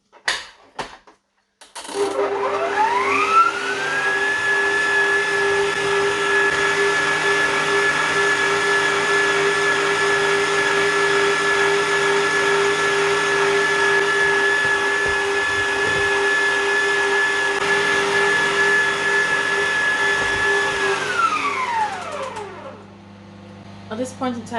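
An electric mixer whisks strawberry cake batter, spinning up with a rising whine, holding a steady, loud buzz for about twenty seconds, then winding down, with short knocks at the start and finish.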